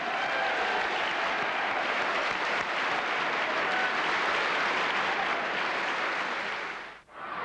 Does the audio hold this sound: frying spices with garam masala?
no